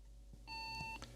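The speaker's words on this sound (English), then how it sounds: "Beep." An old DOS PC with an 8514 graphics setup gives a single steady electronic beep lasting about half a second, clear and alone against a faint background hum.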